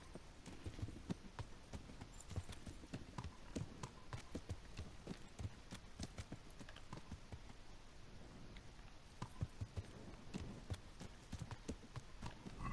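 Steady clip-clop of horse hooves in Kingdom Come Deliverance, a quiet, continuous rhythmic trotting with no one talking.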